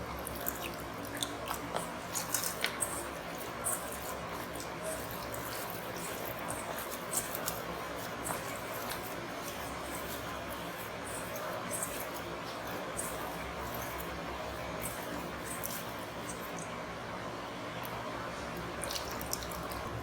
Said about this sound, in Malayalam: കുറേശ്ശെ ആയിട്ട് ചേർത്തിട്ട് നമുക്കിത് കലക്കിയെടുക്കാം